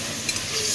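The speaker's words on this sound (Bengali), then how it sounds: "এখানে হচ্ছে আলু কষানো হচ্ছে মাছের ঝোলের জন্য" Potatoes sauté in an oiled kadai as the base for a fish curry, a brief, close, steady sizzle with light stirring scrapes.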